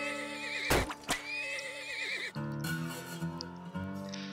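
Horses in the video game Turmoil whinny loudly in two sharp neighs close together, followed by quieter snorts and hoof clip-clops over a steady background drone.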